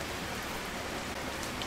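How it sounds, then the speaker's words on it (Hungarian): Steady rain pours down in The Wasteland Trucker video game, a dense, even hiss of falling water that fills the scene with no voices over it. "hogy esik az eső"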